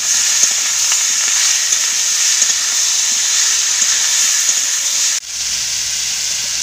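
Chopped tomato with ground coriander, turmeric and salt fries in a pan, a loud, continuous close hiss and sizzle with faint stirring that abruptly drops lower near the end.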